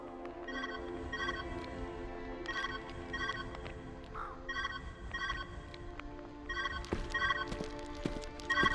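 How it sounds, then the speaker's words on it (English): A phone rings in a video game, a repeating electronic ringtone in evenly spaced bursts over quiet background sound, moderately loud and close. "Your phone ringing."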